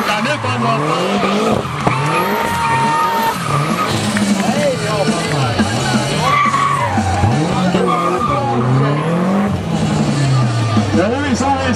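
A BMW does a burnout at a car meet, tires squealing loudly and continuously while the engine revs up and down in repeated surges, close and sustained throughout.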